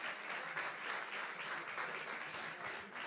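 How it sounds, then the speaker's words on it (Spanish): Church congregation applause, a steady, fairly distant wash of many hands clapping that holds evenly for about three seconds without any voices. "dale el aplauso a Dios por eso."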